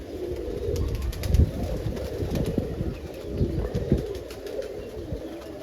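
Roller pigeons in a crowded loft kid box of over 50 birds coo in a low, continuous murmur, with occasional wing flutters and shuffling nearby, no voices.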